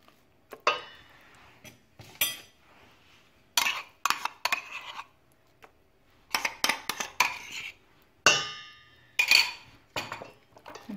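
Utensil clinking against a bowl while mixing bread dough ingredients with yogurt and butter; sharp, irregular scraping and clanking strokes, close and fairly loud, separated by short quiet gaps.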